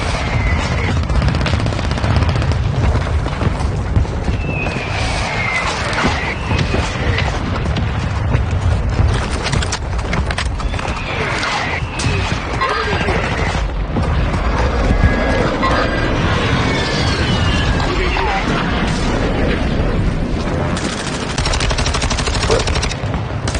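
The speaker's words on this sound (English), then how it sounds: "Our mortar strike is inbound." Dense game-combat din with a mortar strike landing: continuous loud gunfire and rapid bursts layered with booming impacts, a thick unbroken wall of battle noise throughout.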